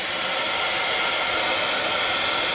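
A hair dryer blows continuously at close range, giving a loud, even, broadband whoosh with no talking over it.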